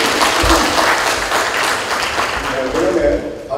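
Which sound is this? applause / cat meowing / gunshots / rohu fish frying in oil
applause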